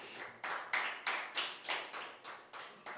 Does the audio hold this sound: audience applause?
yes